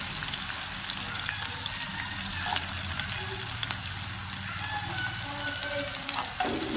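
Ginger and chillies fry in a pan, mixed in with onions, producing a dense, steady sizzle with occasional soft stirring scrapes and light knocks. Close and continuous, with no one speaking.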